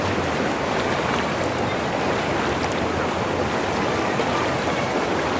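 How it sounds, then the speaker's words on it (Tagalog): Rushing river water on the trail near Puray Falls in Rodriguez, Rizal pours out as a loud, steady, broadband roar that never lets up, close to the microphone, with no voices. "lahat ng agos ng tubig."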